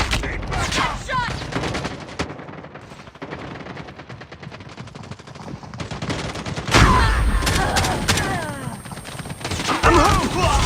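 Rapid automatic gunfire rattles almost nonstop in a shooter video game, loud and dense, with heavier volleys bursting in toward the end and shouted voices mixed in.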